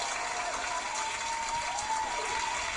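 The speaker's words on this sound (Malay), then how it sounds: "Berikan tepukan untuk Lisa, kawan." An indoor audience claps for a woman at an HR system presentation, producing a steady, dense wash of applause that holds evenly for a few seconds.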